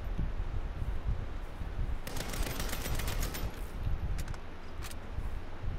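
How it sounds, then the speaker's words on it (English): Gunfire in Saints Row: fairly faint rapid bursts of automatic shots, clustered in the middle and again near the end, over a steady background hum. "Gonna use up all my bullets and my gun."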